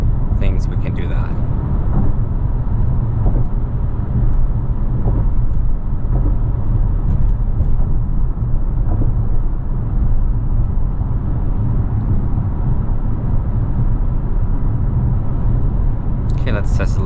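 Inside a 2022 Infiniti QX55 cruising on the highway, a steady, loud low road and engine rumble with broadband tire noise carries on without a break, with faint brief ticks near the start and end.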